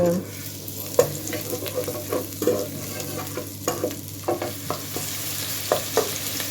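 A medium onion sizzles in hot oil, a constant crackling fry broken by scraping stirs of a utensil in the pan.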